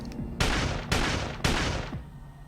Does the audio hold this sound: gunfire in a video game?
yes